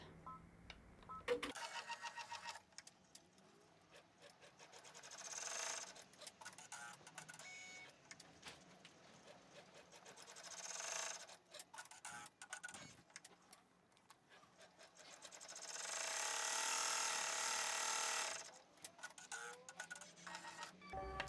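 An embroidery machine stitches a placement guideline for vinyl on an in-the-hoop mason jar treat holder, giving close mechanical whirring and rattling in several sustained bursts separated by quieter pauses, with no talking.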